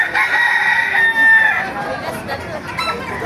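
A bulig rooster at a poultry market in Bocaue crows once loudly and close, a drawn-out cock-a-doodle-doo with a rising, quavering call, followed by background chatter and clucking.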